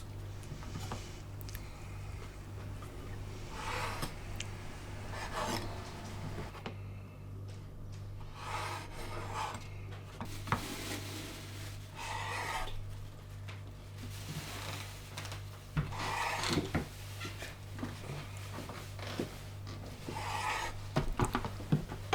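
A knife cuts the crusts off bread slices for treacle pudding, repeated soft sawing and rasping strokes over a steady low hum. The sound is fairly quiet and no one speaks.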